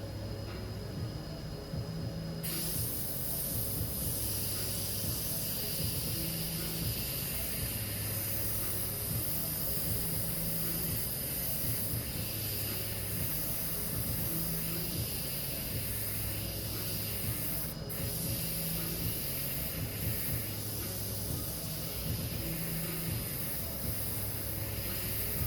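An airbrush hisses steadily as a second layer of colour goes onto the artwork, a close continuous spray with faint low tonal hum beneath and no talking.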